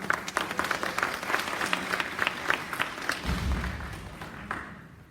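A school audience at an elementary school Lyme disease awareness event claps for the staff, a fairly soft, sustained round of applause that tapers off toward the end.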